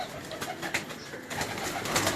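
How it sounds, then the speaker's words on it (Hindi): Pigeons kept by a Karachi bird fancier, soft cooing calls repeating through steady outdoor background noise, moderately close and at low level. "और ये कबूतर उस्ताद जी देखिएगा ज़रूर।"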